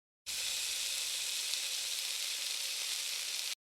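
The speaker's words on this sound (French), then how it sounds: "Écoutez et regardez la cuisson de la viande. Vous l'entendrez chanter." A steak searing in a hot pan gives off a loud, even, continuous sizzle that starts abruptly, holds steady for about three seconds and then cuts off.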